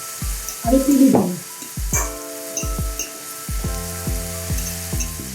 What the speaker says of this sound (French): je suis en train d'égrener mon riz. Je suis en train d'écraser pour pas avoir des gros paquets de riz